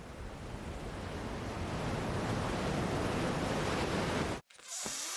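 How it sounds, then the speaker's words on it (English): Sea waves surge and wash in a steady, loud broadband roar that holds for over four seconds, then cuts abruptly to near silence with a faint thump. "the sounds of the sea"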